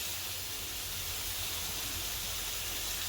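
A steady, faint hiss of steam rises from a pot while dried fish cooks for a chutney, continuous and even throughout with no talking.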